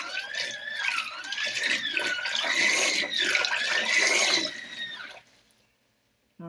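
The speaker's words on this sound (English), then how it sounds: "here's my portable camper wash machine. I've got 3 pieces in there, 2 pairs of shorts and a shirt." A portable camper washing machine churns two pairs of shorts and a shirt in water, a steady sloshing swirl with a rising and falling whine, close, before stopping abruptly into near silence.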